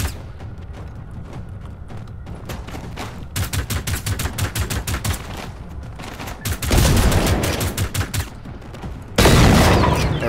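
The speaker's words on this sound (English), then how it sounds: "See if I can pull out the shotgun and kill him." Repeated shotgun blasts and gunfire aimed at hostile machines in the first-person shooter Generation Zero, loud and rhythmic, with heavier bursts in the later seconds and no talk over them.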